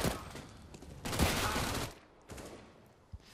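Counter-Strike match gunfire on the de_train map: a short burst of rapid shots followed by a few scattered distant pops, moderately quiet, no speech.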